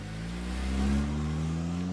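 A car engine revs steadily and pulls away, a continuous mid-low drone rising slightly in the middle with no talk over it.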